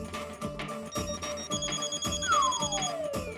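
Mobile phone left behind in a home, ringing with a repeating electronic ringtone in a steady pulsing rhythm, fairly close and clear, with a falling sweep tone partway through and no voices.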